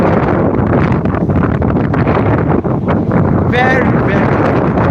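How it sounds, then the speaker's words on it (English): Strong, gusty wind buffets the microphone with a loud, continuous roar and rumble, and a voice cuts in briefly near the end. "Oh, you can hear it. It's so windy."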